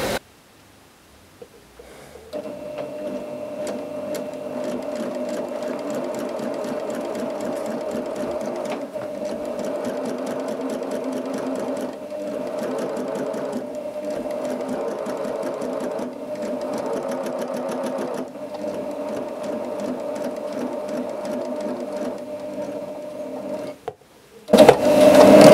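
A SUISEI S955 KM sewing machine stitches fabric with a gathering presser foot, giving a steady, close, continuous mechanical whir of rapid needle strokes that runs for over twenty seconds before stopping.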